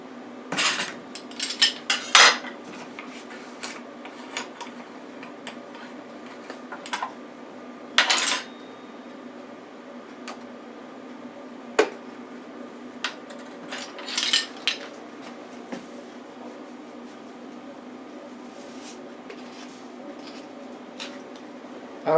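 A metal measuring spoon clinks sharply against a bowl and containers while a quarter teaspoon of salt is measured for a Thanksgiving pecan pie; a few separate bright taps come in small clusters over a quiet kitchen hum.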